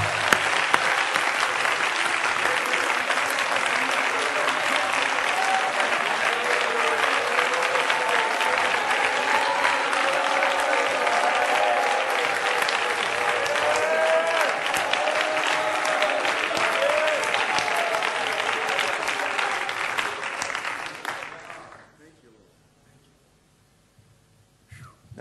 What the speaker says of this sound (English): Now let's all clap our hands to the Lord.